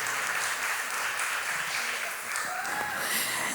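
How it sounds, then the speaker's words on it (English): Wedding reception guests at Saltwater Farm Vineyard break into steady, dense applause for the couple, a full room clapping continuously with a few faint voices and cheers mixed in. "let's give Cassie and Kristen a big round of applause"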